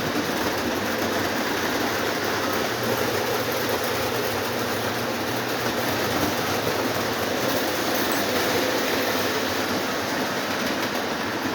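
Three Lionel toy steam engines pull Christmas train cars in a steady, dense mechanical rumble with a constant whir and clatter that stays even and close for the whole stretch. No voices are heard.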